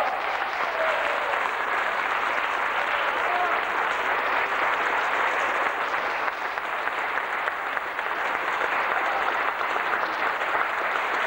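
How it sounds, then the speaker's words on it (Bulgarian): An audience at a brass orchestra concert claps for a long, even stretch, a dense roar of many hands held at a steady loudness the whole way through, with no voices heard over it. "Моля за вашите аплодисменти."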